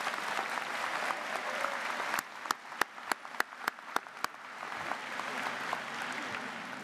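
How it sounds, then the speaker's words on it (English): A university convocation audience applauds student speakers, broad steady clapping from a crowd with a run of sharp, loud nearby claps standing out in the middle. "Let's give our student speakers another round of applause."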